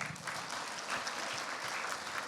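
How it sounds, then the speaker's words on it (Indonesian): Church congregation applauding during a worship service, a steady wash of many hands clapping, distant and faint throughout. "Kita berikan tepuk tangan untuk Tuhan."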